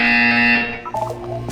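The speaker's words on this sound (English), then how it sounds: "You will hear a buzzer." A steady, loud electronic buzzer drones in Portal 2 for about half a second, then cuts off, leaving a low hum and some faint clicking mechanical sounds.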